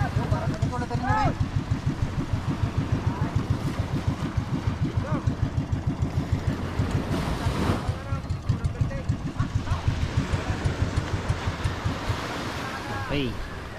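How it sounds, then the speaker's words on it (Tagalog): Boat engine chugging at idle near the sea, a steady rapid pulsing thump throughout with wave and wind noise and occasional voices over it. "Ngayon, okay na makina"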